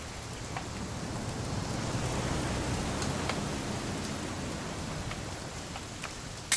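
Steady rain falls throughout in the game What Remains of Edith Finch, a dense, even hiss at moderate loudness with occasional faint drips and no voices.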